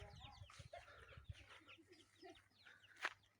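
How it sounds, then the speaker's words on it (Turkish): Chickens cluck softly and chicks peep in scattered calls, with one sharper squawk near the end; quiet, close village farmyard sounds. "Evet şunlar da civcivlerim."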